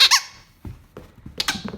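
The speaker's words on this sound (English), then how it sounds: "How about one of your squeaky toys?" A dog's squeaky toy gives a couple of sharp, high squeaks at the start, followed by softer scattered handling noises and a few more faint squeaks, all near and with no talk.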